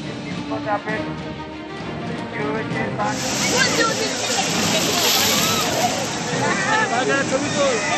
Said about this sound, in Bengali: মন্দারমণিতে ফুঁসছে সমুদ্র।